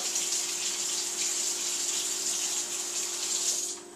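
Hot water runs steadily from a tap, a continuous hissing gush that holds even for about four seconds before tapering off slightly at the end.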